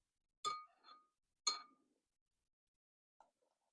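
A spoon clinks against a glass while stirring cold milk. There are two bright chimes close together, a pause, then a fainter clink. The sound is quiet and close, with no talk.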